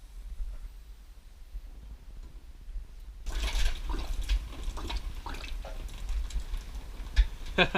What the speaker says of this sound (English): it filled the buffer back up and it's splurting out